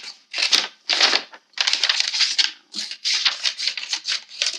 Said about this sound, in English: using your scissors, cut into the craft paper